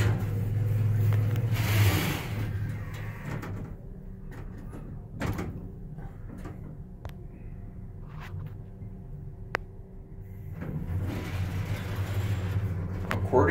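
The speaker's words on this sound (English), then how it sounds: "Let's take one more ride on this elevator." A ThyssenKrupp elevator in a library runs with a steady low hum, broken by a door sliding open and shut and a few clunks, with the machinery rumbling louder at the start and end.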